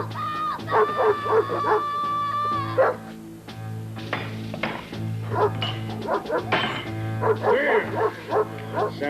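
A dog barks and yips repeatedly in short bursts amid music and scattered voices, loud and close, in a 1990 family film scene about a missing time capsule.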